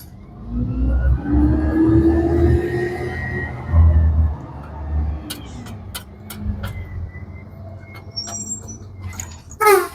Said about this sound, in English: trash truck is here apparently